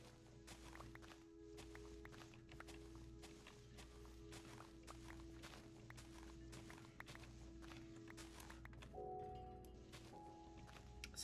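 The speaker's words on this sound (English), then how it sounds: "sometimes you don't want to hear your own footsteps" Footsteps of the player's own character in a video game, a steady run of soft, evenly paced thuds over a constant game soundscape with a sustained tone, a new pitched tone entering near the end, no talking.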